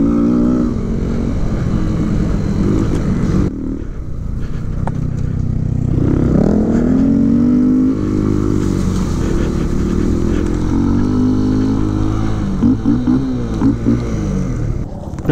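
A motorcycle engine revs and surges steadily while riding across a grass field, its loud, close drone rising and falling through the throttle bursts of an attempted wheelie, with faint clattering underneath.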